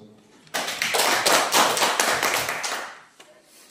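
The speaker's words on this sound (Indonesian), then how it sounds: "Kita berikan aplaus." A room full of people claps together at a school teachers' dissemination event, a dense burst of applause starting abruptly, holding steady for a couple of seconds, then tapering off with a few last claps.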